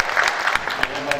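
A church seminar audience claps together after a pastor's presentation, a dense, steady round of applause with clustered sharp claps, fairly close and even in loudness throughout.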